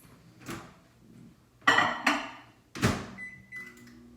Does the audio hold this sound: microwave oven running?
yes